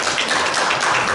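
Brief, loud burst of audience clapping at a children's council plenary session in Changwon, a dense wash of hands over about a second with no talk.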